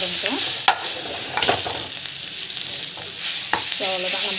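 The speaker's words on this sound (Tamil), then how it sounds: "மாங்காய் துருவல் போட்டுட்டு கொஞ்ச நேரம் வந்து வதங்கட்டும்" Grated raw mango sautéing in a pan for mango rice, a close, continuous sizzle and crackle broken by several sharp scrapes and taps of stirring, no voices.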